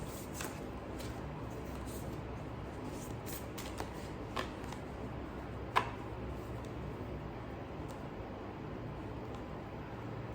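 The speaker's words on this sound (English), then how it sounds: "So we're going to shuffle the deck" A deck of cards being shuffled, soft riffling and rustling with a few sharp snaps, quiet and close, no talking.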